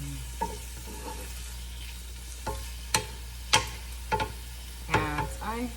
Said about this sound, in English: And now I'm going to saute them in.